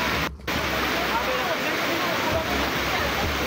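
Rushing floodwater during Typhoon Ramil, a loud continuous broadband roar of churning water with wind noise, steady throughout with a momentary dip near the start.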